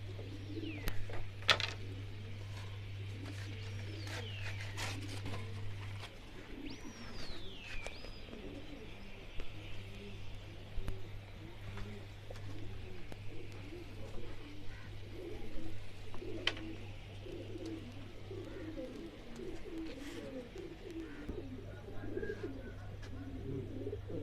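Pigeons at a pigeon-keeping setup coo in a soft, rolling chorus, several birds overlapping at a moderate distance, with a few higher chirps and whistles early on and a steady low hum beneath.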